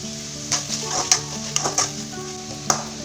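Hot oil sizzles steadily while potato gravy with curry leaves fries, punctuated by several sharp clinks and scrapes of stirring against the pan, close and moderately loud with no talking.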